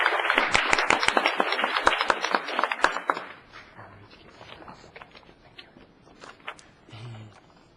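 An audience at a city council meeting applauds a scholarship winner, a dense burst of close handclaps that thins out after a few seconds into scattered claps and quiet room noise.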